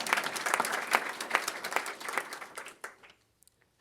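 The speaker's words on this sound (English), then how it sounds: "Can y'all give yourself another round of applause for showing up today?" An audience at a community event in Louisville claps in a dense burst of applause, close and lively, then thins out and fades to near silence within a few seconds.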